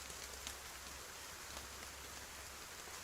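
Medium rain falling steadily in a swampy southern setting, a continuous even hiss of drops on surfaces with no breaks, moderately loud and unaccompanied by voices.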